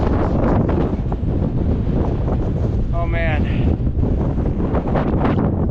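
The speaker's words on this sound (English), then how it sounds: "If you guys can hear that, but it is windy right now" Strong, continuous wind buffets the microphone with a loud roar throughout on a snowy winter ridge, and a man briefly exclaims in the middle.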